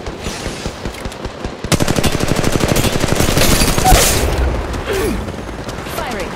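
Automatic gunfire in the Apex Legends Mobile video game: a loud, rapid machine-gun burst that holds steady for several seconds, then trails off into scattered shots and game effects.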